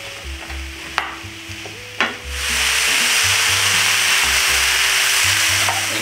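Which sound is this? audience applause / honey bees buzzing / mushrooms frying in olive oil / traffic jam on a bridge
mushrooms frying in olive oil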